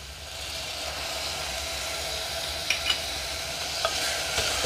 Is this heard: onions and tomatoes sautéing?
yes